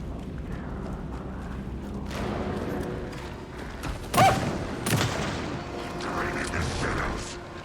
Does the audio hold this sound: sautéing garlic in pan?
no